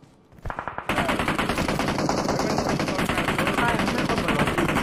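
Sustained automatic gunfire in PUBG Mobile, a few scattered shots quickly building into a loud, continuous rapid rattle of close shots that keeps going.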